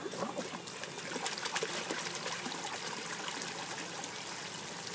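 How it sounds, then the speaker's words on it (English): A continuous gentle trickle of water splashing and dribbling out of a koi pond filter, steady and close, with no voices. "the water then starts coming back out again"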